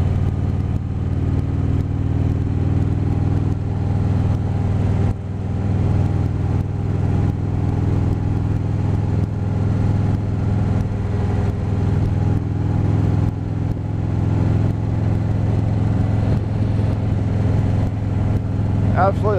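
A vehicle, likely a motorcycle, cruises along country back roads with a steady low engine drone and wind rush, holding an even pace with slight shifts throughout.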